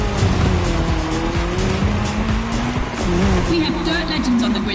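An Audi S1 EKS RX Quattro rally car races in The Crew Motorfest video game, with a steady engine drone and squealing, skidding tires. A commentator talks over it throughout.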